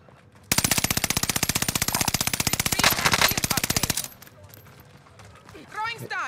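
Sustained rapid automatic gunfire in a shooter video game, loud and close, a dense burst of evenly spaced shots running about three and a half seconds before cutting off into quieter game ambience.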